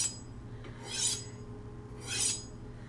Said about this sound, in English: going to do a little hand honing here. Just taking off the burr.